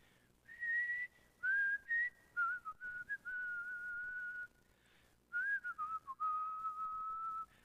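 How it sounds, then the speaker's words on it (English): A person whistles a tune during a church worship service, clear sustained melodic notes in short phrases with brief pauses between them, alone and close to the microphone. "I need to practice my whistling"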